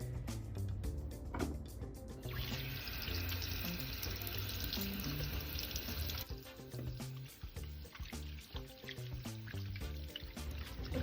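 Hands are washed under a running tap at a sink during nurse hand hygiene, with water splashing steadily and close, the flow changing as hands move through it.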